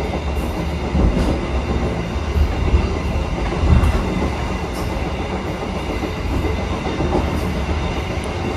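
A local commuter train between Pasuruan and Surabaya rumbles steadily from inside a carriage, with rhythmic wheel clatter on the rails and a constant low roar.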